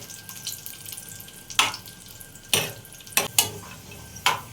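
Cashews fry in ghee for semolina halwa, giving a soft steady sizzle broken by several sharp scraping stirs of a spoon in the pan.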